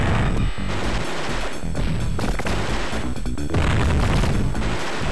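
In a Sega Mega Drive shooting game, enemies implode amid continuous loud arcade action: dense crashes, booms and bursts of gunfire with no break.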